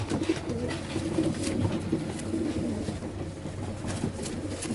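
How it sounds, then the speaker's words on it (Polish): Pigeons coo softly and repeatedly in a loft of young birds, a low murmuring chorus at moderate distance without talk. "Super gołębie."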